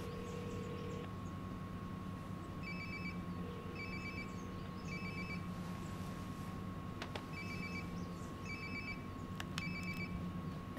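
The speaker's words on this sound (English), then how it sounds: "Sounds like my phone is definitely nearby." In Life Is Strange: Before The Storm, a phone rings in repeating pairs of short electronic trills over a steady low hum, the rings coming in regular bursts with quiet gaps between them.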